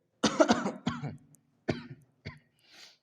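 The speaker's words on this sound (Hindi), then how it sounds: "भाई एक खांसी जान ले लेगी।" Several sharp coughs in quick succession, a close burst of two or three followed by two single coughs, then a faint breathy exhale.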